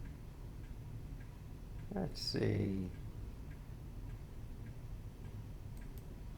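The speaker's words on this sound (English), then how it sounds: "That's grandfather's clock." Faint, steady ticking of a grandfather clock runs through a quiet room, with a brief spoken remark partway through.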